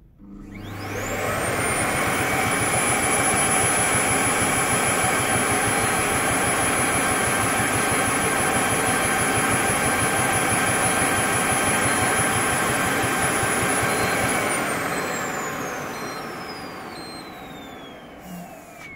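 A Parkside Performance PPWD 30 A1 wet/dry vacuum at maximum airflow spins up into a loud, steady, high-pitched whine, holds it for about twelve seconds, then winds down toward the end.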